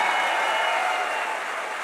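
Sustained applause from an audience at a large indoor business seminar, broad and steady throughout, gradually tapering a little near the end.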